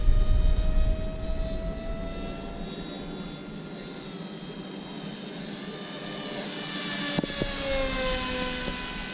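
Electric motor of an X-UAV X8 Skysurfer RC plane at full throttle, 2200 kV with a 6.4 prop, giving a sustained high-pitched whine with a steady drone that swells slightly toward the end, alone in the open.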